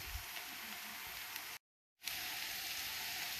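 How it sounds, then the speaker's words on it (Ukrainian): Potato and minced meat cutlets fry in a pan with a steady, soft crackling sizzle. The sizzle cuts out completely for a moment, then resumes at the same level, and no one speaks. "Процес іде дуже так гарно смажаться котлетки."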